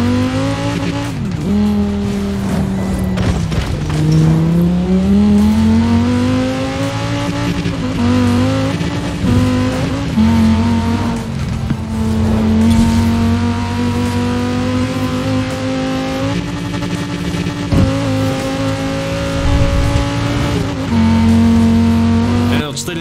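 Cyberpunk 2077 car driven in Forza Horizon 4: a loud, continuous engine drone with rising and falling pitch as it accelerates and shifts, with occasional tire squeal, under a speaking voice throughout.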